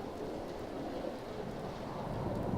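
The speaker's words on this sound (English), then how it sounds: "another Rad-storm was starting up" A radiation storm in Fallout 4 brings a steady hiss of rain with low, rumbling thunder and wind underneath, swelling slightly over a couple of seconds at a soft level.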